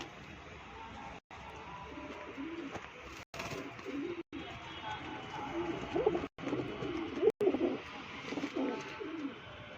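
Caged pigeons coo softly in repeated low, rolling calls at close range, with a few faint chirps among them.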